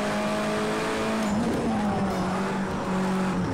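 A race car in the Project Cars 2 racing game oversteers with tires skidding and squealing over a loud, continuous engine drone, with the whine of the engine shifting pitch throughout.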